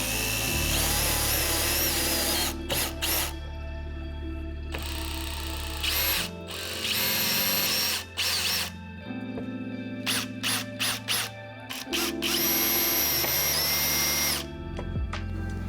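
A cordless power drill drives screws into a front splitter on a Mustang, whining in repeated close, loud bursts of a few seconds each with brief pauses between them.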